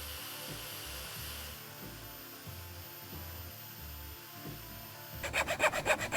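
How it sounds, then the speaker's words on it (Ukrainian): A sanding disc shaping a wooden fishing lure makes a steady abrasive grinding drone with rhythmic pulses, ending in a burst of louder, sharper rasping strokes. "І на шліфувальному диску обробимо радіус."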